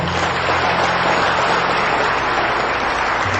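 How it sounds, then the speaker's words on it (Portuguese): Loud, continuous applause from a church congregation during a worship service, a dense steady clatter of clapping hands filling the room from start to end. "Aplauda Jesus mais forte"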